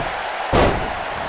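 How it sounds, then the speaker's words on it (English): One heavy slam lands in a WWE 2K19 wrestling match as a takedown knocks a wrestler off his feet, a short, loud thud over a steady crowd murmur. "Knocked off his feet. Now that's a takedown."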